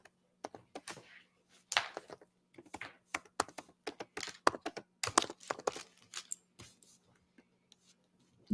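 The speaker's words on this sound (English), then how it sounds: "I'm typing it in right now for it." Someone types on a computer keyboard nearby, a steady scatter of crisp key taps with short pauses in a quiet room.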